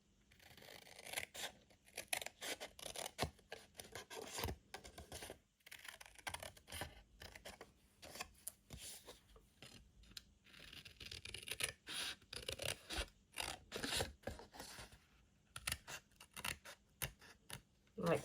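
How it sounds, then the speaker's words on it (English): Scissors snip through cardboard along score lines, a close, quiet run of repeated crisp cuts and scratchy rustles in quick irregular rhythm throughout. "Snip in here and snip in here."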